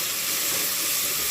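Onions frying in a pan for chicken donne biryani give a steady, close hiss and sizzle with no talk over it.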